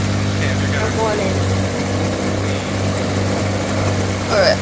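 A propeller warplane engine in Battlefield 1 drones with a steady low hum and a few faint squeaks over the top, loud and close throughout.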